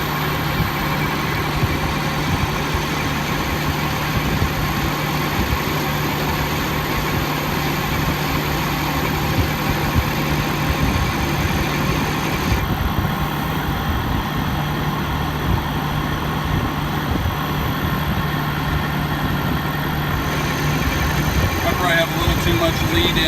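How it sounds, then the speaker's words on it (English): A Shopmaster Patriot CNC lathe cuts the initial shoulder and thread profile on a gun barrel, producing a steady, droning machine hum with a constant tone that continues unbroken, with a slight shift in character near the end. "this is going to go ahead and cut our initial shoulder cut and profile for the threads"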